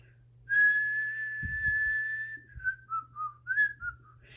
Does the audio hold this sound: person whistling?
yes